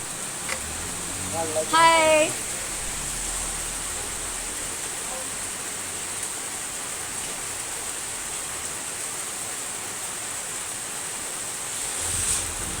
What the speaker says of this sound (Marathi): आमच्या गावाला लय पाऊस आहे बघा